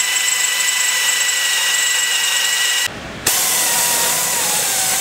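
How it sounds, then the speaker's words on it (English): A power drill whines steadily at high speed drilling holes in a vehicle frame for a snowplow mount, stops briefly, then spins up again and keeps grinding. "I'm gonna drill two holes, the front and the second one"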